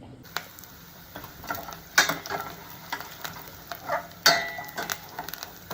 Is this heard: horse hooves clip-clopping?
no